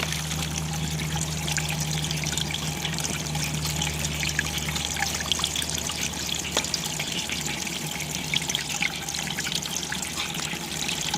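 Strained creek water pours steadily out of a prototype self-cleaning irrigation strainer drum, a constant close trickling splash with faint dripping and no talk.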